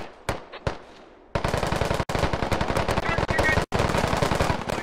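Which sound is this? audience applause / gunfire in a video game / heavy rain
gunfire in a video game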